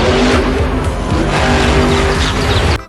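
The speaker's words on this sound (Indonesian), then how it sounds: "Lihat teman-teman, di sini ada mobil monster." A toy monster truck gives off a loud, continuous engine roar mixed with screeching tire squeal, close and steady for nearly three seconds before cutting off abruptly.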